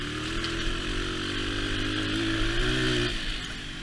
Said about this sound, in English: So long since I've ridden a dirt bike through the woods.